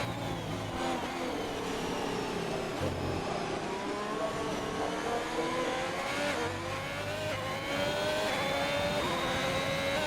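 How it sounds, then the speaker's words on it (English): Ferrari race car rounding the final corner at the Netherlands round, its engine note rising and shifting through gears in a steady, moderately distant roar lasting the whole stretch with no voices. "Final person to come across the line, coming round the final corner in that Ferrari."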